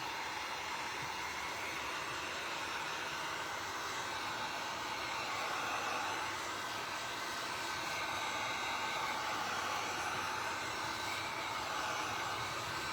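A dryer blows over a wet painting, producing a loud, steady, unbroken whoosh of air that runs the whole time with no voices.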